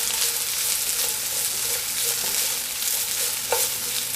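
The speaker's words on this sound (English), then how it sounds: "So we have our onions cooking here." Onions frying in a hot pan for beef lo mein: a continuous loud, bright sizzle close up, with small crackles and a brief stir or clink near the end.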